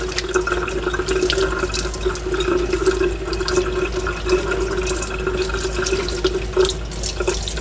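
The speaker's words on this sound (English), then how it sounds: "press it underneath the cold running water" Cold water pours steadily from a kitchen tap into a sink, a constant close splashing rush with small bursts of spatter and no voices.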